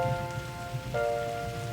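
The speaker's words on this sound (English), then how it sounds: "Gee, I'm glad it's raining." Steady rain patters on surfaces in a soft, continuous wash, with a sustained tonal hum and a brief rise in level partway through.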